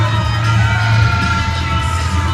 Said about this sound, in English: Good to see the Philippine ladies cheering on their men.